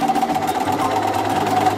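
A sewing machine runs steadily at speed while stitching a fabric ruffle sleeve, a close, even mechanical whir with no pauses.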